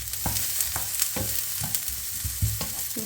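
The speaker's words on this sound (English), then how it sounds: "I'm just frying up the onions to flavour the pan first of all." Onions lightly frying in a home kitchen pan, a steady close sizzle with repeated soft stirring scrapes every half second or so, no talking.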